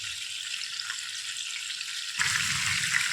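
Vaam fish fries in mustard oil as it cooks on its second side, a faint, even hiss that turns suddenly louder and fuller near the end, with no speech.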